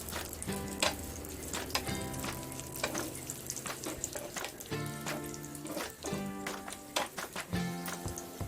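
Cashews and raisins frying in a pan until golden, a continuous crackling sizzle broken by repeated scraping and clinking of a spoon stirring against the pan, with no talking.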